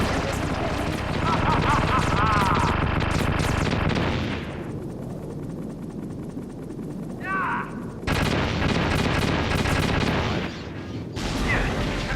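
Gunfire in the Metal Gear Solid game: loud, dense bursts of shots over a music bed, dropping out briefly midway and returning with a sharp burst, a short fusillade near the listener.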